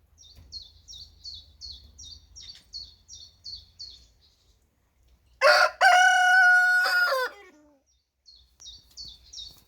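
A rooster crows once loudly and close by, a long drawn-out call rising over a backdrop of hens and small birds chirping in quick repeated bursts in a farmyard with lilac in bloom.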